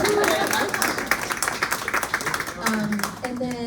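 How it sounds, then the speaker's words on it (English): A crowd claps and applauds at a book event for a Jewish holiday cookbook, a dense patter that thins out over a few seconds as a voice speaks over it. "let's keep the applause going"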